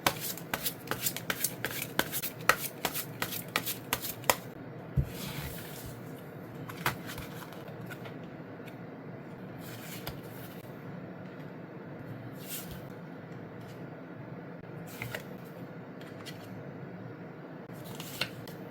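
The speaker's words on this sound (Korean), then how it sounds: "카드들 월별로 한번 실시간으로 뽑아보도록 할게요" Tarot cards being shuffled and drawn one by one, a quick flurry of crisp riffling snaps at first, then sparse soft slides and flicks of single cards close by, with no talk.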